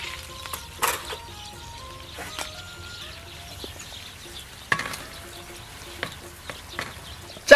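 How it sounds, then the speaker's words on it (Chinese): Spices and bean paste stir-fry in oil with a soft, low sizzle, broken by sharp intermittent scrapes and taps of a spatula against the pan. "来点豆瓣酱，炒出红油。"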